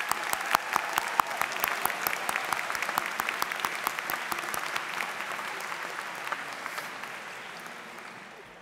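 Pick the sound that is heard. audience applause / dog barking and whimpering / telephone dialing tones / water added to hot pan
audience applause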